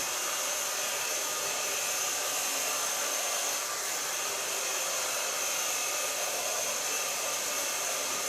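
A hair dryer blows steadily on hair being styled for volume into an asymmetric bob with an undercut, a loud, continuous airy roar that lasts the whole stretch with no talking.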